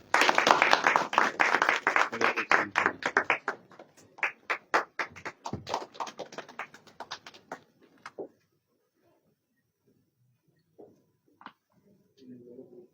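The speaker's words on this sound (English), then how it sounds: "A big round of applause." Applause at an agreement signing ceremony between the Moscow government and the Patanjali group, starting full and dense, then thinning to scattered individual claps that fade out, leaving near silence with a few faint sounds.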